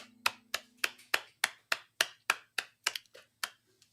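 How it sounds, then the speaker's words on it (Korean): A church congregation at a prayer meeting claps in a steady, even rhythm, about a dozen crisp claps at moderate distance that thin out and trail off at the end. "하나님께 영광의 박수 돌려드리겠습니다."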